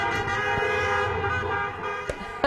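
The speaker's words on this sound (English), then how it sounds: "You can hear, of course, all of the cars honking their horns." Car horns honk through the streets of La Junta after the Broncos' Super Bowl 50 win, a loud, continuous blare of overlapping horns with a couple of sharp bursts near the end.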